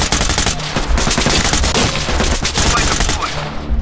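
Dense, rapid gunfire from a tactical police shooter game, with sustained bursts and overlapping shots running loud and continuous for the whole stretch.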